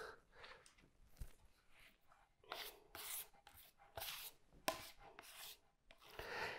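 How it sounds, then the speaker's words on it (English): A knife scrapes across the top of a painted cabinet in a series of faint, rasping strokes, short bursts separated by brief pauses, close by and quiet. "now I'm just gonna scrape the whole top"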